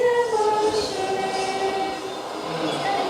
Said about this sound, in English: I think if you hold your breath, you can hear the train.